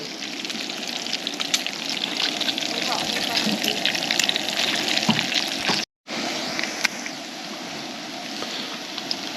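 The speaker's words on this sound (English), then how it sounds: "Didn't have a pan long enough to do my bacon nice and neat, so it's a jumbled mess" Bacon crackles and sizzles in a pan at a camp kitchen, a dense continuous spitting hiss with scattered pops that holds steady apart from one brief dropout.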